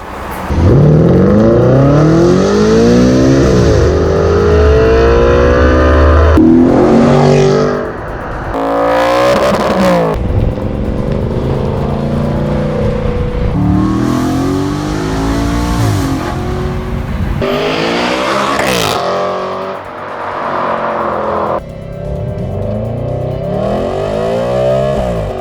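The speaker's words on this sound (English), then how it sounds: "So I ended up with a Capristo valved non-resonated exhaust system." Audi RS5 fitted with a Capristo valved, non-resonated exhaust, loud and close, revving hard with sweeping rises and falls in pitch, brief lifts between pulls and a raspy, aggressive tone throughout, with no talking.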